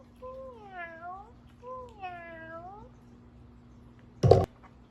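A voice imitates a cat, giving two drawn-out, wavering meows in a row, followed by a brief sharp knock or click near the end.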